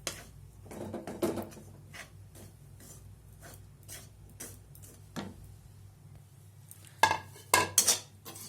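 Chana dal dry-roasts in a pan while being stirred: irregular scrapes and metallic clinks of a spoon against the pan, fairly quiet at first, then a few louder clattering strikes toward the end.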